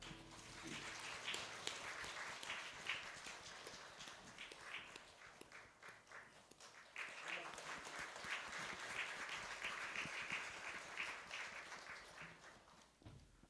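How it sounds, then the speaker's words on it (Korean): A church congregation claps during a Sunday morning service, a fairly quiet, sustained patter of many hands with a slight dip midway before fading toward the end. "우리 한번 박수하겠습니다."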